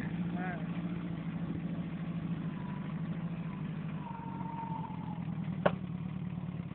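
A small ATV engine idles and runs rough with irregular misfires, a steady low engine drone with one sharp pop near the end, and a voice faintly heard over it.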